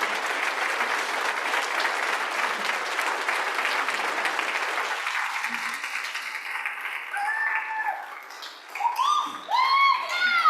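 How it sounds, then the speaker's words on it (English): Broad, sustained audience applause for a 75-year-old man's 60-year service award at a historic preservation conference, loud and dense for several seconds, then thinning out as people begin talking and murmuring. "please stand up and give a huge round of applause"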